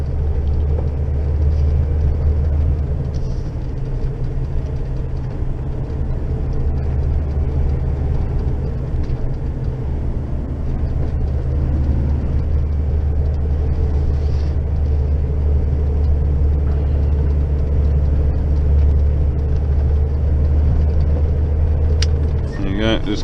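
A tractor engine hauling a load of straw on the road in top gear drones with a continuous loud, low rumble, steady and close, throughout.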